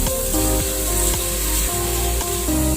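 Yogurt goes into masala frying in hot oil for mutton biryani, giving a continuous loud sizzle with a few soft stirring knocks.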